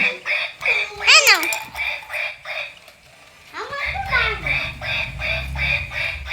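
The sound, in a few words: ducks quacking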